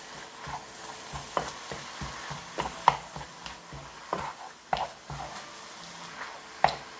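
Ground taco filling browns in a pan on a home stove, giving a steady low sizzle broken by repeated scraping and stirring strokes, with no talking.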